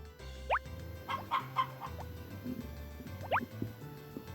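Chickens cluck in the Harvest Moon: BTN video game, with a few short synthesized clucks and chirps spread over a soft looping farm tune.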